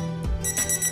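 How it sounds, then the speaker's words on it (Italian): A kitchen thermometer alarm sounds while caramel is being made for a hazelnut brittle, a short electronic beeping tone over a steady low hum. "Come sentite, il termometro suona,"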